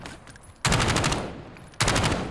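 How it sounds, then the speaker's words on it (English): Automatic weapon fire in the shooter game Black Ops Warzone, two loud sustained bursts of rapid shots separated by a short lull, close and dominant. "Incoming shots."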